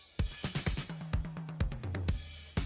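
A disco drum kit plays a busy groove, with punchy kick and snare hits, crisp hi-hats and a low tonal fill running through, loud and close.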